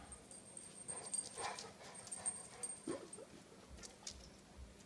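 A dog at a back patio door whimpers and lets out short barks while waiting for biscuits, the uneven yelps and whines coming in scattered bursts over a faint, steady background.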